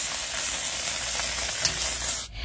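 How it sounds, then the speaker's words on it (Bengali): Freshly washed lata and darika fish fry in a pan, a dense, even hiss and sizzle that runs steadily before cutting off abruptly at the end. "তো মাছটা আমি ধুয়ে এই যে ভাজা করে নিচ্ছি।"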